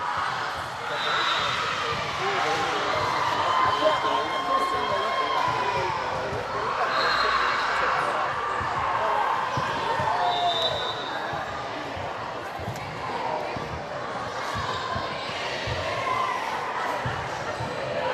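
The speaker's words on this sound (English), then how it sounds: "There's the crowd" A basketball game crowd gives a dense, sustained roar of cheering and chatter with occasional louder swells, and nearby voices talk over it.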